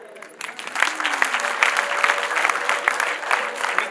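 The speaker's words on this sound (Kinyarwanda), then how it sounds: "sabe mwese muha amashyi aba bana" Applause at a wedding for the children, a crowd clapping steadily at moderate volume after a quiet start, continuing for several seconds.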